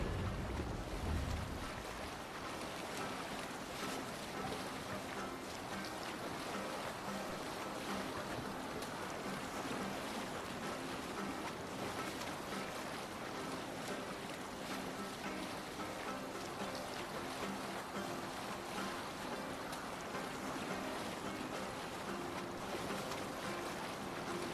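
A Viking longship rows out to sea in Assassin's Creed Valhalla, with steady waves, wind and creaking boat ambience washing continuously under a faint, even bed of game sound.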